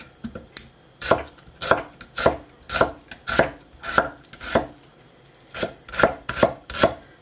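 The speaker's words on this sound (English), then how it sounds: "I'm grabbing a small onion and dicing it thinly." A knife dices a small onion thinly on a cutting board, about a dozen crisp, close chops in an uneven rhythm with no voices.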